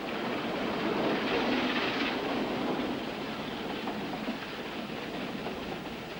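A Ffestiniog Railway train running between Porthmadog and Blaenau Ffestiniog gives a steady rumbling roll with a faint rhythmic rattle, fairly close and even throughout, slightly louder at first, with no voices.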